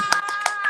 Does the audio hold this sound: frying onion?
no